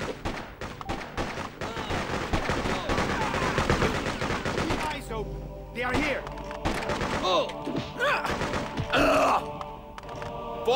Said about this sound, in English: Yeah, I know they're shooting at us.